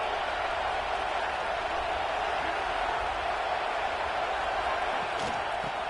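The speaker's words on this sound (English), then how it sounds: "The roar of the crowd trying to fuel this defense to keep them pinned in their own end." A stadium crowd at a college football game between Colorado and Penn State roars in a loud, sustained wall of cheering and noise that holds steady throughout, with no distinct voice above it.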